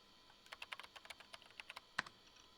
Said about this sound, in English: I sat back down and started typing up a response.